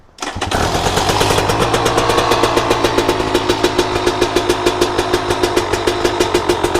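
A 2024 KTM 300 two-stroke dirt bike, just serviced for a fouled spark plug, kicks to life and settles into a steady, loud idle with an even pulsing beat close by, with no voices over it.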